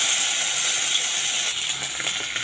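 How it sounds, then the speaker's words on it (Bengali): Nigella seeds and two green chillies sizzling in hot oil for an okra and sweet potato curry, a loud steady hiss that holds throughout with slight crackling near the end, no voices. "ওই তেলে কালো জিরে দিয়ে দিয়েছি আর দিচ্ছি দুটো কাঁচা লঙ্কা"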